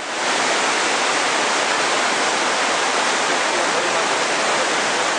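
Steady broadband rush of flowing and dripping water fills the Jiuxiang cave in Kunming, a loud continuous wash like a small waterfall with no distinct separate drips standing out.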